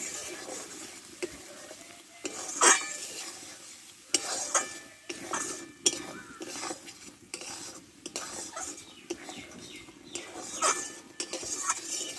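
Potato and pointed gourd curry being stirred in a pan after cashew paste ground with milk is added: steady spatula scraping and clinks near the mic over a soft continuous sizzle, with no voices.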